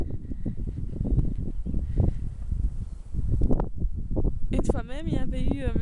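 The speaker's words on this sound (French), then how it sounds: "À part le vent, on n'entend rien et les petits oiseaux." Wind buffets the microphone outdoors in the countryside near Gouvy, a rough low rumble that swells and dips throughout, with someone speaking over it near the end.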